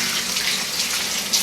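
Running tap water rinsing spice off a chuck roast at a kitchen sink, a steady close splashing hiss with no voices.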